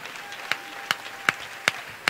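A church congregation clapping in a slow, even rhythm, five distinct claps spaced about half a second apart, fairly close and moderately loud over a quiet room.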